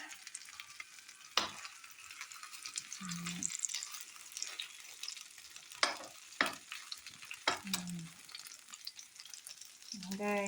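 A hotdog fries in a pan with a steady near sizzle, broken by several sharp clinks and scrapes of a utensil, with brief low hums in between.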